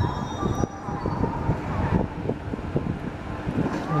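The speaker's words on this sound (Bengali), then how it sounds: "এই ট্রেনটি এখন শিয়ালদা স্টেশনে ঢুকছে।" The Balila Express pulls into Sealdah station with a steady low rumble and rattle of rolling carriages, close by, with wind buffeting the microphone throughout.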